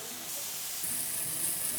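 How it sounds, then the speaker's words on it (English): Marinated pork chops sizzle on a hot grill, a steady loud hiss and crackle of searing meat that swells slightly and continues throughout, with no voices. "Listen to that sizzle."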